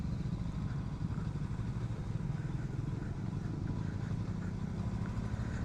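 A Honda NX500 motorcycle hums along at a steady pace, its low, even engine drone continuous and smooth with wind noise and no speech.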